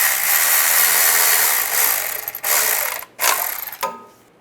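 Ratchet wrench tightening a starter cover bolt on a 2007-2013 Chevy Silverado, a fast clicking ratchet run that slows into a few short bursts with brief pauses, close and alone.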